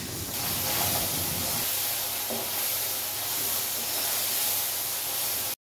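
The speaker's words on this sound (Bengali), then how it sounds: "এখন পুঁটি মাছ এগুলোকে ভাজা করব।" Small puti fish frying in a hot pan, a loud, steady, close hiss of sizzling oil that continues unbroken and then cuts off abruptly.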